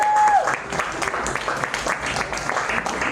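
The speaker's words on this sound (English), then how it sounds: "Round of applause to Dave." A small audience at a tech meetup applauds its host, a moderate patter of many hands that continues evenly for a few seconds, with a faint tone at the start and some murmur beneath.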